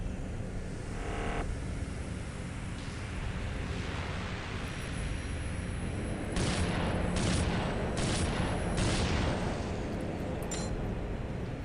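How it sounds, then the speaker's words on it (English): Shotgun blasts in Unreal II: The Awakening, several sharp bursts spaced a second or so apart over a dense, noisy sci-fi background hum. "shotgun seems to work fairly well"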